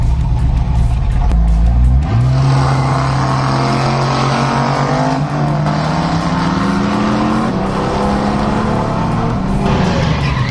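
A rebuilt 1983 Holden VH Commodore roars past at speed, its exhaust note rising sharply as the engine revs climb and then holding a loud, throaty drone close by.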